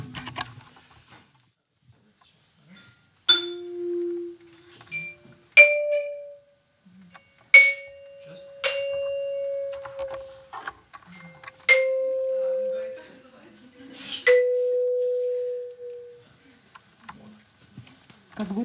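Tuned percussion played with a pitch-bend technique in a new-music stage demonstration: about seven separate struck notes ring out one after another, each sustaining and sliding in pitch, clear against near silence.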